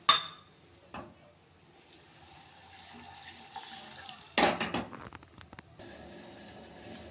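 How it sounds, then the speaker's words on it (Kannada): A small glass of water is poured onto a cup of jaggery in a kitchen while making rice kheer, a short splashing pour midway followed by steady running and trickling, with faint kitchen clatter and no talking. "ಇದಕ್ಕೆ ಒಂದು ಚಿಕ್ಕ ಗ್ಲಾಸಷ್ಟು ನೀರು ಹಾಕ್ಕೊತಾ ಇದ್ದೀನಿ."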